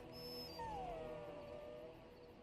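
Dog companion in the video game Dragon Age Origins gives a drawn-out whimpering whine that slides downward, set over steady game ambience for a couple of seconds.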